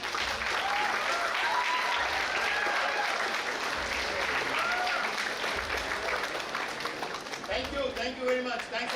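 A large audience at a college entrepreneurship summit in India gives sustained, dense applause that stays loud and steady, then thins slightly toward the end.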